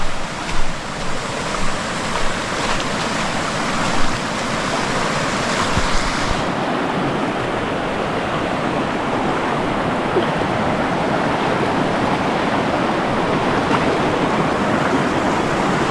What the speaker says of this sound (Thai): โอ้แม่น้ำใหญ่มากเลย